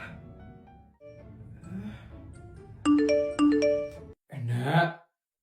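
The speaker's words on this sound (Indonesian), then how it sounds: "HP kamu kok bunyi terus dari tadi?" A phone sounds a short, loud series of bright repeating notification chimes, two quick bursts in a row, after a stretch of quiet talk and before a voice starts speaking.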